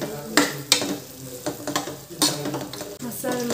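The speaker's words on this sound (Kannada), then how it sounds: "ಸೊ ಅದಕ್ಕೆ ಚೆನ್ನಾಗಿ ರೋಸ್ಟ್ ಮಾಡಿಬಿಡೋಣ" Spice masala with ginger and garlic sizzles and roasts in a pan while a spoon stirs and scrapes it, close by, with soft frying hiss and irregular metallic scrapes.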